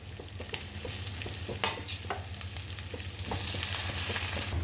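Boiled potatoes being stirred into a sugared spice mixture in a pan over a raised gas flame, a steady close sizzle with repeated scraping and mixing strokes that grows slightly louder toward the end.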